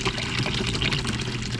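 Water flows steadily in a smooth fan over the bottom of a Miller table used for fine gold recovery, a constant close rushing trickle with no pauses.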